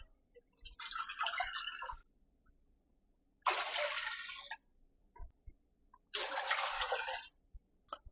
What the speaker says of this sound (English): Now I'm going to add 6 cups of water.